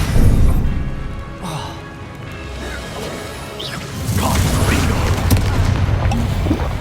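Spell blasts crash and boom continuously in Hogwarts Legacy combat, loud dense impacts layered with whooshing bursts and thuds that build toward the end.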